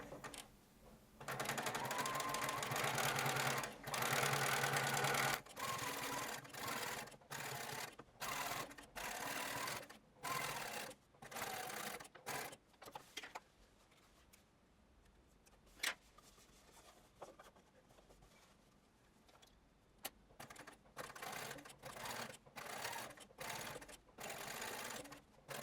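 A sewing machine stitching front pockets on jeans runs in a long steady burst, then a series of short stop-start runs with pauses and small mechanical clicks between, close and clear.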